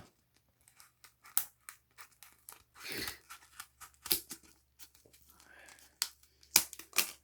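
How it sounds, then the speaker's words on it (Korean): Small scissors snip through the hard plastic packaging of a microSD memory card in a series of close, irregular cuts, with crinkles and crunches of the plastic and occasional soft breathy noises. "가위로 안에 플라스틱이 있어서 이 가위가 조금 작은 가위라서 조금 자르기가 빡빡하네요"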